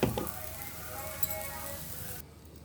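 Cumin seeds and chili powder sizzle in hot oil with bitter gourd in a pan, a steady broadband frying hiss that runs close and even before cutting off abruptly near the end.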